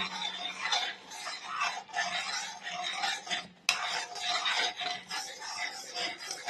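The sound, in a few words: stirring food in a cooking pot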